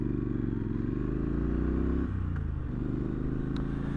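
A Triumph Street Scrambler motorcycle rides along country lanes, its steady engine drone close and continuous, dipping briefly as the throttle eases before pulling on again.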